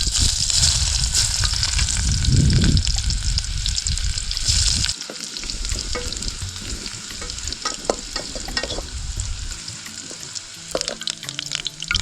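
Food fries and sizzles in hot oil over a campsite fire at Rathkale Pathana, a loud steady crackling hiss with occasional stirring scrapes and clinks, no talking.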